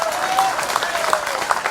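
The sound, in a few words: audience applause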